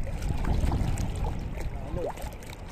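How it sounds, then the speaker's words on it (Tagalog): Rough water with big waves and gusting wind at the shoreline, a continuous low rumbling wash with breezy microphone buffeting, close and fairly steady throughout. "Laki ng alon."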